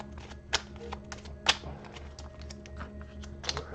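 Kingdom Death Monster hunt event cards being shuffled by hand, a dry run of quick light taps and riffling clicks with a few sharper snaps, close and steady, with no voices.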